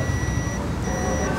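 A multimeter's continuity-test beep holds steady, thin and unbroken throughout, faint under a constant hiss of background noise, while testing a horn circuit on a Chinese motorcycle.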